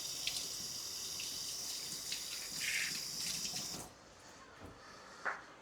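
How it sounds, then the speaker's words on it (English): Water pours from a kitchen tap into dosa batter, a steady broad running splash for about four seconds that cuts off, followed by a couple of faint drips and small clinks. "so I'll just add that much water"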